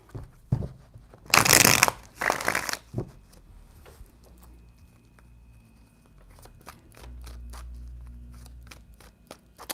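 Tarot cards being shuffled in a few brisk riffling bursts near the microphone, followed by softer handling and tapping of the deck.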